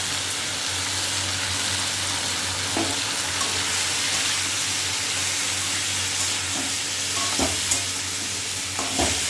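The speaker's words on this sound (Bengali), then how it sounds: "মশলাটা একটু ভাজা ভাজা হয়ে গেলে জল দিয়ে দেবো।" Cumin and turmeric spice paste fries in a pan for a fish curry, a dense continuous sizzle with occasional stirring clinks and scrapes, close and fairly loud, with no talking.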